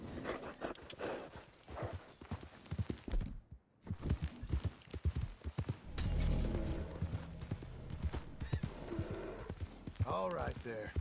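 Horse hooves clip-clop at a gallop in the video game Red Dead Redemption 2, a steady rhythmic pounding with rumbling movement and brief gaps, while a rider talks over it.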